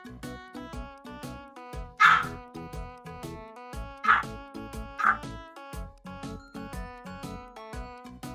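A dog gives three sharp, yappy barks a second or two apart, fairly close, over steady background music.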